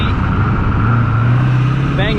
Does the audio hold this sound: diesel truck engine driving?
yes